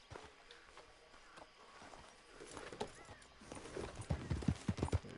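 In the video game Red Dead Redemption 2, a horse's hooves thud softly at first, then pick up into a quicker, louder clip-clop near the end, with faint voices in the background.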